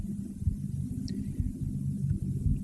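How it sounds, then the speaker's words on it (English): A sound played back through a granular synth: a dense, low rumbling drone of overlapping grains, steady and fairly loud, with faint scattered high glints above it. "I'll just drop the same sound onto the granular synth"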